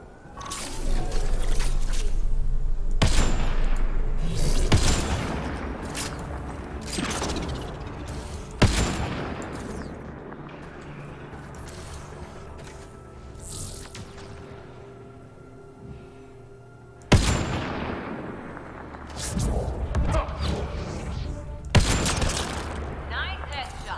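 Combat gunfire in the game Mass Effect: Andromeda, with loud irregular shots and bursts over a dense rumbling battle bed, including a quieter stretch in the middle and sharp cracks returning near the end.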